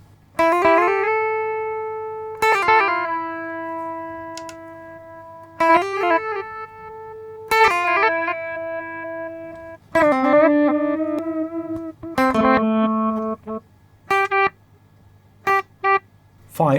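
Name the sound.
guitar reverse delay pedal effect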